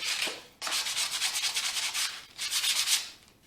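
Sandpaper rubbing over raw wood on a handmade garden tool tote, a short stroke followed by two longer bursts of steady, close scratchy sanding with brief pauses between.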